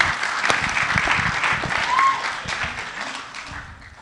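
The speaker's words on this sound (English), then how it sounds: "give Kerri a warm round of applause for sharing this morning" Warm applause from a church congregation after a personal testimony, a steady wash of clapping with a faint tonal whistle partway through, gradually tapering off over about four seconds.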